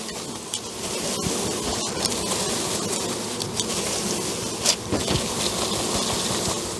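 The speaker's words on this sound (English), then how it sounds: "That's a lot of bees in this one," A dense swarm of honey bees from a package being installed into a hive buzzes loudly and continuously, close by, with a few thumps and rustles mixed in.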